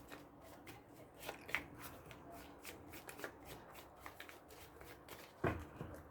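Wisdom Oracle cards are shuffled and cut by hand, close and quiet: a run of soft riffles, rustles and light taps, with a sharper snap of cards near the end and no speech.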